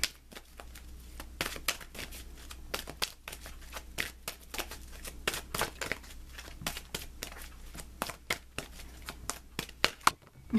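Tarot cards being shuffled by hand, heard as a rapid, uneven run of close papery slaps and riffles over a low steady hum.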